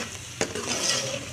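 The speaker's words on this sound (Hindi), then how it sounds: "इसको हमने तकरीबन 10 मिनट तक इसको भूनना है" Onion, ginger-garlic paste and tomato masala fry in a pan while being stirred, with a soft steady sizzle and a brief scrape of a utensil.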